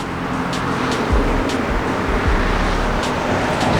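An Infiniti Q50 on new wheels drives past, a steady broadband road roar with low rumbling swells as it moves by, no voices.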